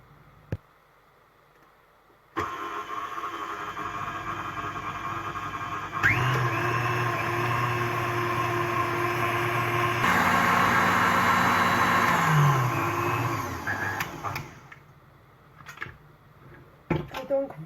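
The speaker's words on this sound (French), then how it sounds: "là je vais fouetter mes œufs jusqu'à obtenir une" Electric mixer whisking egg whites into Swiss meringue: the motor kicks on with a steady whine, steps up in speed twice, runs loud and even, then winds down and stops, followed by a few clicks and knocks.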